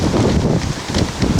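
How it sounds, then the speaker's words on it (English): Strong outdoor wind buffets the microphone in heavy, uneven low rumbling gusts that swell and dip across the whole stretch, loud and close with no voices. "And it's really windy"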